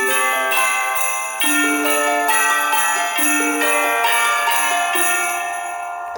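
Tubular bells ring out in an orchestral Christmas arrangement, with a descending series of bright, sustained metallic strikes spaced about half a second apart, each tone ringing over the last.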